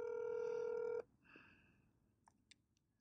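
A telephone call being placed, with a loud steady dial tone that cuts off, then a few short, faint tone beeps as the number is dialed in a quiet room.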